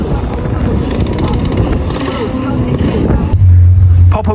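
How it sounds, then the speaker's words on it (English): Drift cars doing burnouts at Donington Park race track, a loud continuous engine roar with tyre noise close by, ending in a heavier, louder low-pitched revving burst over wind buffeting. "There's drift cars here doing burnouts."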